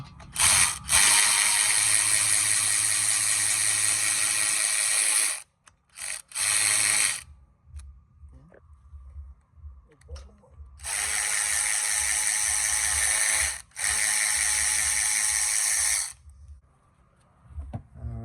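Electric ratchet spins on the front brakes of a 2013 Volkswagen Beetle 2.5 L5, in two long loud whirring runs broken by a few short bursts, with quieter clicking and handling between them.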